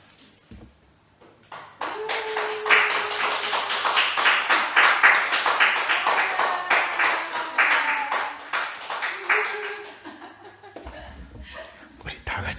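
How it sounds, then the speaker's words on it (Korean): Applause at a church membership ceremony, a congregation clapping together in a sustained burst of many hands that builds, holds, then fades out, with some chuckling and murmured voices. "우리 선물을 전달할 때 우리와 같은 박수를 부탁드립니다"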